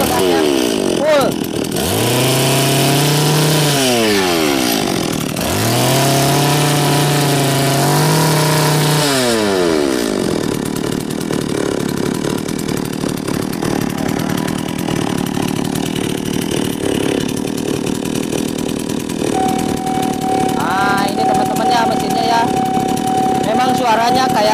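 A 381 chainsaw engine runs loud and close, revving up and down in repeated full-throttle bursts before settling into a rough, steady drone with a faint whine.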